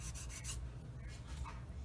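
Sandpaper rubs back and forth over a sprue gate on a plastic part of a 1/35 Dragon Panzer I model kit, a soft close scratchy rasp in short repeated strokes.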